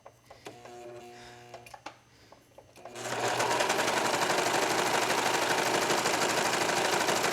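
A sewing machine sews the side seam of a knit racerback tank top. A few clicks and brief mechanical whirs come first, then a loud, steady, fast-running hum and needle clatter carries on without pause.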